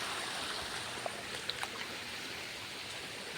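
Floodwater pours into a house, a faint, steady rushing hiss of flowing water with a few small splashes and no voices.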